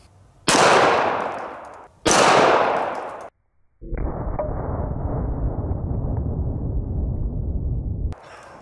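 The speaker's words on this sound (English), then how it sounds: "This is a Springfield 1911 model A1, and we're gonna be loaded up with some 45 ACP 230 grain full metal jackets." A Springfield 1911 A1 pistol fires two loud, sharp .45 ACP 230-grain full metal jacket shots about one and a half seconds apart at an axe, each ringing briefly, followed by a sustained rumbling clatter of outdoor noise.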